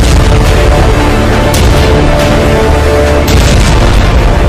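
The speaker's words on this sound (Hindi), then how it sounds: "हिजबुल्लाह के रॉकेट धमाके हाइफा में हाहाकार मचा रहे हैं" Heavy booming rumble of rocket explosions in Haifa during Hezbollah strikes, a loud continuous roar with deep low-end blasts rolling through the whole stretch.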